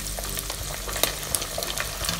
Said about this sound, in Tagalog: So ito, mabilis na lang ito iprito.